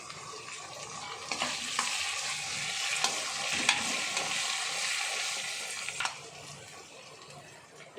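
Curry leaves drop into hot oil in a pan already holding ginger-garlic paste for pepper chicken, giving a loud, continuous close sizzle with a few crackles that eases off toward the end.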